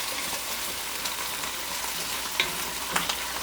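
Minced meat frying with onion for Iraqi dolma, a dense, even sizzle with small pops and a couple of brief stirring scrapes near the end, steady and close without talk.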